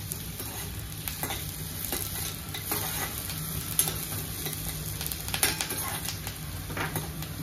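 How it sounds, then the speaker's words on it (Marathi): Ten to twelve curry leaves sizzle and crackle loudly in hot oil for a Maharashtrian kanda poha breakfast, a steady bright hiss with sharper pops and occasional utensil clinks, with no talking. "त्याच्यामध्येच आपण हे 10 ते 12 कढीपत्त्याची पानं टाकत आहोत।"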